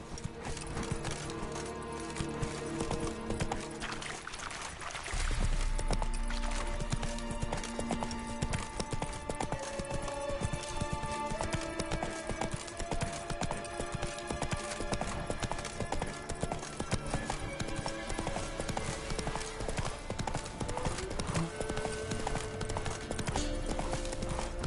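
Galloping horse hooves in The Witcher 3: Wild Hunt, a steady rapid clip-clop running through the whole stretch over the game's music and ambient sound, with a brief neigh near the start.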